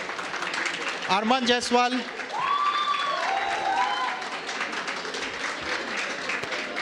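A crowd at a desserts of India cooking competition applauds participants, steady clapping running under an announcer reading out names.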